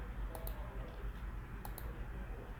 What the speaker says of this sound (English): You can click on it,